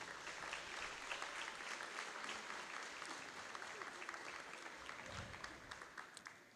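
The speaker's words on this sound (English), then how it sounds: "Could we give a big round of applause for those that received the big H?" A high school awards-evening audience gives a sustained round of applause for award recipients, dense steady clapping from many hands filling the hall, faint and even throughout.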